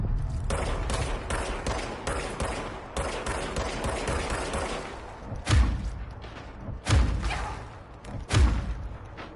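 The Service Weapon in Control fires a rapid run of shots, then three heavy, booming single shots spaced a second or more apart, each with a deep thump, loud and close.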